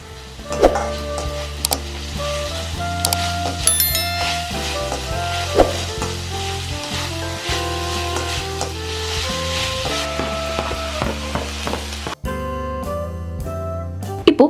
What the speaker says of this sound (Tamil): தாளிப்பு முடிஞ்சதும் வெங்காயம் போட்டுட்டு லைட்டாக கலந்து விட்டுட்டு கட் பண்ணி வச்சிருக்கிற ஒரு தக்காளி வந்து சேர்த்துக்கலாம்.